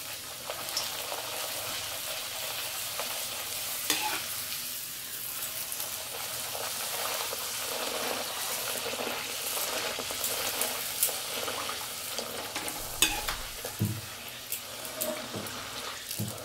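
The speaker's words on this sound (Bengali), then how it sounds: "এই যে আবারও আরেকটা লুচি ভেজে নিচ্ছি।" A luchi, a puffed flatbread, deep-fries in hot oil with a continuous close sizzle and bubbling, broken by occasional clinks and stirring sounds, with no one speaking.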